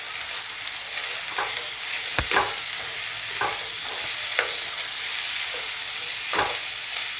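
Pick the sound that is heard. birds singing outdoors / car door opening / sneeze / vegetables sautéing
vegetables sautéing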